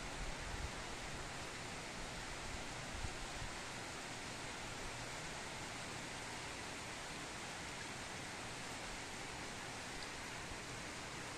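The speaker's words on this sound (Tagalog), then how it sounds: "Ayan na naman, nalakas na naman ang ulan." Heavy rain pours down steadily, a constant roaring hiss of drops with no talking, unchanging throughout.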